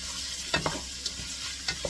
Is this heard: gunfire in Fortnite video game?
no